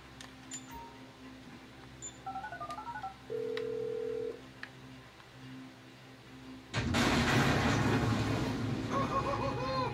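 Inside the Grand Theft Auto 5 video game, a cell phone plays short DTMF dialing beeps, including one held tone. A burst of louder game noise and engine sound follows, and the whole clip is fairly quiet.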